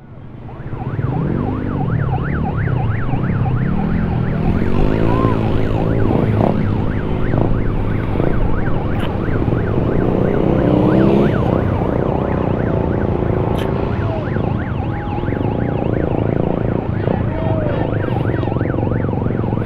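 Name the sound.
police car siren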